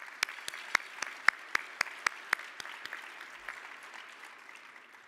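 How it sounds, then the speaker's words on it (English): Quiet, sparse applause for the judges at a Forty Under 40 awards event, distant and thin, with a handful of sharp individual claps standing out early before the sound thins to a faint patter. "Please give them a round of applause."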